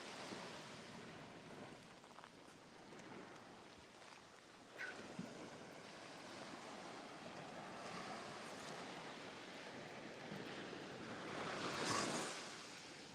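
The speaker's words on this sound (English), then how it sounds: "listen to the sound of the sea crunching on the sand with the shells" Sea waves wash over sand and shells on a beach, a soft continuous surging hiss with a gentle rise and crunch as one wave breaks, and wind buffeting the microphone.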